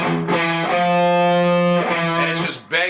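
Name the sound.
distorted electric guitar playing F over E riff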